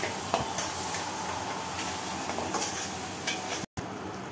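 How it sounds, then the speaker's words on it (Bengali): Masala sautéing in hot oil in a pan for Bengali dhokar dalna, a steady close sizzle with occasional stirring scrapes and clinks, alone with no talk. "এটাকে আমি ভালো করে কষাবো।"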